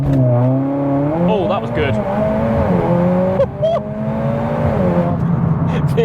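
Mercedes A45S AMG with ESP off, engine held high on the brake then launched hard, a loud continuous rev with rising and falling pitch, someone talking over it near the end.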